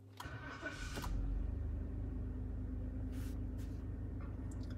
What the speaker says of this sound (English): we'll fire her up because it does make a lovely noise